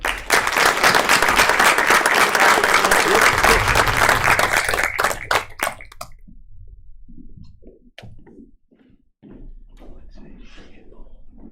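A school board meeting audience bursts into loud, dense applause and clapping to congratulate a student, sustained for about five seconds before fading into scattered talk and a few thumps.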